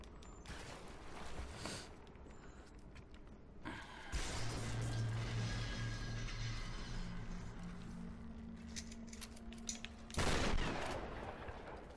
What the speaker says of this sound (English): Try a shotgun blast.